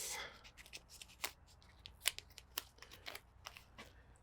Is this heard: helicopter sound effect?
no